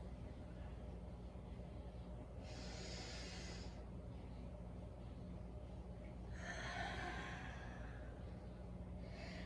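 Slow, audible breaths during a yoga vinyasa flow: two long airy exhales, a few seconds apart, rise over faint background hiss, soft and close.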